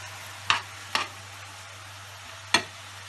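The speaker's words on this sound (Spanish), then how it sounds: "Entonces ahora es el momento de echar la salsa teriyaki." Teriyaki sauce goes into a pan of al dente vegetables, producing three short, sharp sizzling bursts over a quiet low hum of the stove.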